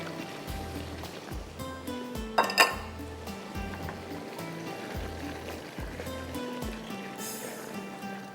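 Prawns being mixed into masoor dal in a cooking pot, with a steady run of soft scraping and clinking from a utensil against the pot, one sharper metallic clink near the middle, and no talking.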